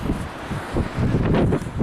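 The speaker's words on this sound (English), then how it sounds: "It's so windy" Strong wind gusts buffet the microphone in a steady, rushing roar that surges and dips for a couple of seconds, at a viewpoint in Alicante.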